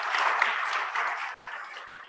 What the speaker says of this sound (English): I think we should provide some applause for both the co-chair and the secretariat